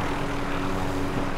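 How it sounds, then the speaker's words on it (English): Helicopter in the Call of Duty Modern Warfare video game, a steady droning rotor and engine hum holding at an even level throughout, with no voices over it. "There's a helicopter."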